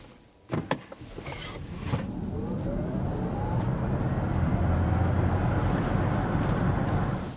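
A Polestar 3 electric car accelerates hard. A couple of brief knocks come first, then a steady, rising electric whine builds over broad road and wind noise, close and sustained until the end.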